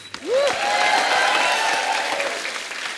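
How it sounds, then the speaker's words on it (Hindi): A studio audience at a comedy talk show breaks into loud, sustained applause that starts abruptly after a brief cheer and keeps going at full strength, slowly easing near the end. "जोरदार ताली"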